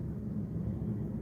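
An airplane passes overhead as a low, steady rumbling drone, faint and distant, with no other sounds over it.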